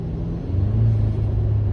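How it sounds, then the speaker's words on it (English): A 4th-gen Toyota Tacoma's turbocharged i-FORCE engine with a Banks air intake pulls under throttle, a close, deep engine drone whose low tone swells and rises after a brief idle. "I press gas. As soon as the turbo spools up, I let go."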